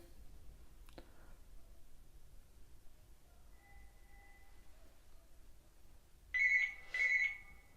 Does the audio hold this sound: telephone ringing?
yes